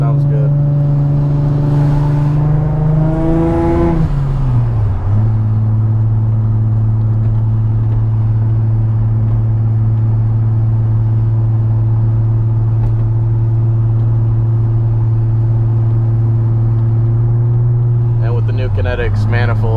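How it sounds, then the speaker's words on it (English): A boosted Infiniti G35 with a Kinetics manifold holds a loud, steady engine drone that climbs in pitch early on, then settles into a long sustained tone, with a brief rev burst near the end. "the blow-off valve sounds good"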